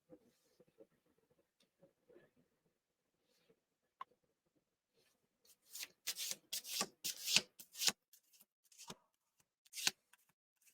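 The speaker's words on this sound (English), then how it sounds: "Let's pull some tarot cards from the Heavenly Bodies Astrology, the deck by Lily Ashwell." Tarot cards from an astrology-themed deck are handled and shuffled, quiet scattered taps at first, then a run of crisp riffling bursts, close and soft with no talking.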